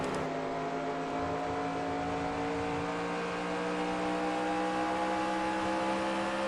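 Sustained race car engine drone from NASCAR Racing 2003 in a career-mode race at Phoenix. It is a loud, steady tone at high revs that holds nearly constant, with no speech over it.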